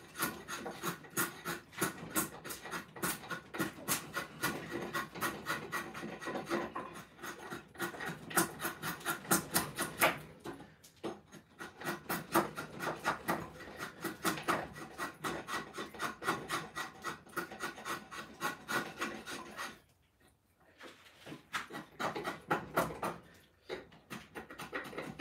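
A drawknife shapes a wooden axe handle cut from a board, making close, steady rasping strokes in a quick repeating rhythm, with two brief pauses between passes and no talk.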